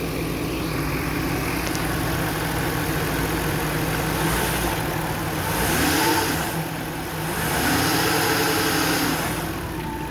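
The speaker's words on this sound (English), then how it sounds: "y'all can listen to the engine here" A Jaguar XJ engine idles steadily at operating temperature, a continuous low rumble that swells briefly twice as if lightly revved, with no talking over it.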